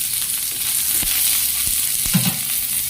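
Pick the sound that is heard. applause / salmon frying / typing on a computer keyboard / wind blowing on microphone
salmon frying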